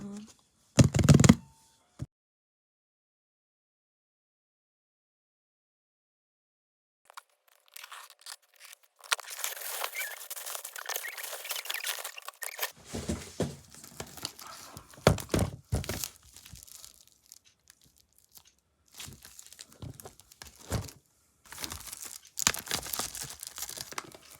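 Someone tears open a K-pop album package at home, with crinkling plastic wrap, ripping and soft thunks of the contents. The sounds come in bursts with a long silent gap, and the person talks between them.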